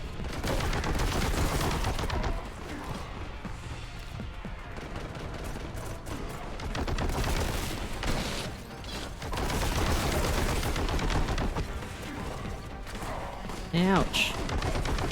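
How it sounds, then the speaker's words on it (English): Rapid bursts of gunfire aimed at the player in a horror-themed video game, dense and loud throughout, with a sharper cluster of shots near the end and talk mixed in over the shooting. "Someone was shooting at me."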